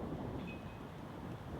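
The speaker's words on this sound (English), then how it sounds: "As you can see, real windy. That wind is pretty strong." Steady, heavy wind roars and buffets the microphone throughout on a golf course, a continuous low rumble with no break.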